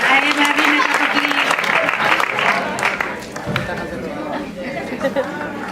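Clapping from a recital audience mixed with lively chatter, voices prominent at first as the applause thins and tapers off to scattered claps.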